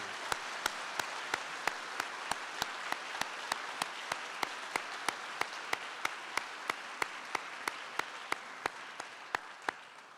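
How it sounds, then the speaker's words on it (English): A small, steady stream of evenly spaced claps at a university optometry white coat ceremony, thanking the ceremony staff, fairly faint and regular with a soft crowd wash underneath. "please join me in a round of applause to thank Jasmine Peterson"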